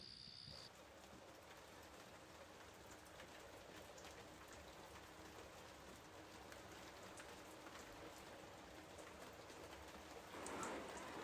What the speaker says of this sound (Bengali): ঝমঝম করে বৃষ্টি শুরু হয়ে যায়